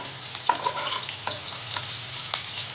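Onion and garlic fry in oil in a pan, with the garlic browning, giving a low, steady sizzle with a few soft stirring scrapes and clicks and no talk.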